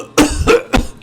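A person coughs three times in quick succession, close and loud, with short gaps between each cough.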